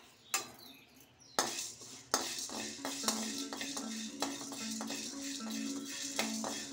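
Black peppercorns and cloves dry roasted in a pan for Malvani masala, with a spoon scraping and clinking against the metal and the spices rattling, close and continuous.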